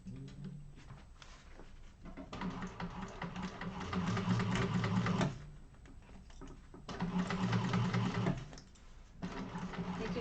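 A sewing machine stitches a 3/8-inch seam on a fabric bag held with tape and clips, running in two long whirring bursts separated by short pauses, steady and close.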